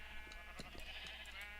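Bleating sheep in Minecraft, heard as a few short nasal calls scattered over a continuous game background, fairly quiet and without talk.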